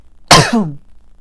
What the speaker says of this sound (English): Sneezing again, guys.